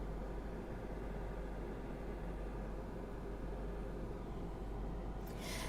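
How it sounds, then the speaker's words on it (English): An air conditioner runs in a small recording room, a low, steady broadband hum and hiss, quiet and unchanging, alone with no voices, ending in a brief brighter rustle. "you're going to hear the background noise of the air conditioner"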